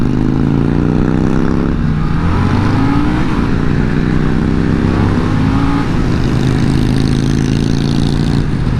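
A Harley-Davidson Sportster S motorcycle accelerating hard, its loud engine note climbing steadily in pitch through the gears, heard up close from the rider's position with heavy wind rush and no talk.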